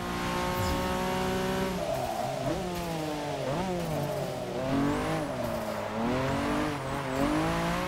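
Honda NSX engine in Forza 6 revving and shifting through rising and falling pitch sweeps as the car drifts, with tire squeal mixed in, loud and continuous throughout.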